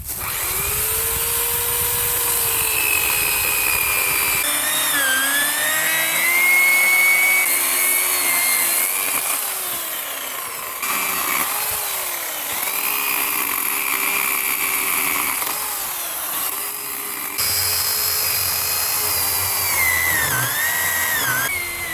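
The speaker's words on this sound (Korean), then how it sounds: "전기를 이용한 전기톱입니다." Electric chainsaw cutting oak wood for firewood, a continuous close whine whose pitch dips and rises as the blade bites and frees, running steadily for over twenty seconds with no talk.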